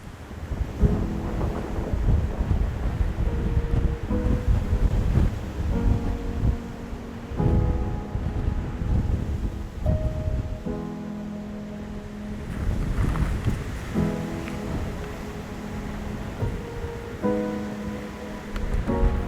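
Strong force-six wind buffets the Sardinian coastline, a steady, loud roar with gusting noise throughout, while musical tones play alongside.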